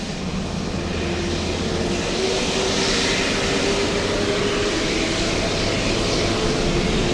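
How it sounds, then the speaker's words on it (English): An American Airlines jet, American 136 bound for London, takes off from the north side of LAX, a steady broad engine roar holding loud and constant with a faint low hum beneath. "looks like American Airlines taxied all the way to the north side for takeoff"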